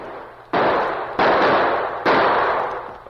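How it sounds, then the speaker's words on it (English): Three loud, sharp gunshot-like bursts ring out from a gully, each snapping in suddenly and decaying slowly with a long echoing tail, spaced roughly a second apart, with no voices. "they were suddenly startled by gunshots from the gully behind them"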